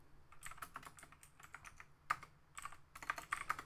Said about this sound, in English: I keep wanting to type in ls.